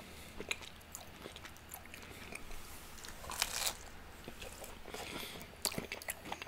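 Crunchy biting and chewing of a Pizza Hut Philly steak melt, close and fairly quiet, with repeated crisp crunches and soft squishy chews at an uneven pace.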